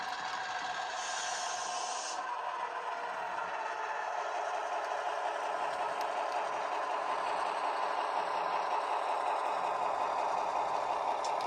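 A model train locomotive idles and coasts with a faint, continuous mechanical whir and light rattle, steady throughout with no talking.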